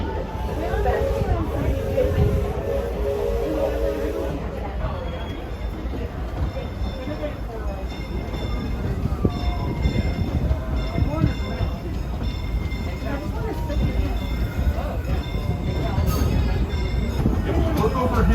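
A Disneyland Railroad train leaves Toontown Depot with a steady rumble and clatter of railcars rolling on the track, under ongoing talk and crowd murmur close by.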